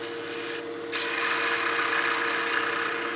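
A 3/4-inch skew chisel cutting wood on a lathe while turning a small bat house ornament, a close, continuous hissing scrape over the steady motor hum, with a brief break before the cut resumes louder.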